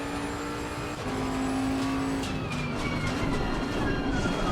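Bentley GT3 race car in Assetto Corsa Competizione at Silverstone, slowing and downshifting into third for Stowe corner, then accelerating out. The engine drones steadily and loudly throughout, with a pitch shift as it drops a gear, and no talking.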